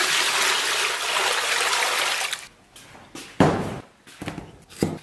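Beef bones being rinsed under running water, a steady splashing stream that stops abruptly, followed by a few clunks and bumps of handling, no talking.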